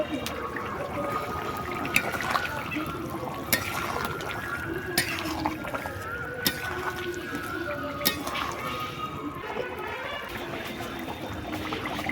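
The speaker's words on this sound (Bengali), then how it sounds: "জিরে বাটা দিয়ে দিচ্ছি" Cumin paste being stirred into a pumpkin-and-potato curry of fresh pond fish, with wet, sloshing scrapes and a few light clinks of a spoon against the pot running steadily throughout.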